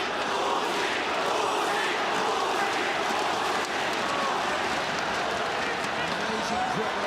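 Arena crowd at a ONE Championship fight roars and cheers continuously, dense and loud from start to finish, with commentators' voices running over the top.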